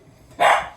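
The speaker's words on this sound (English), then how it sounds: "That's my dog, Bertie." A single short dog bark from a pet dog indoors at home, fairly close and loud, standing alone against a quiet room.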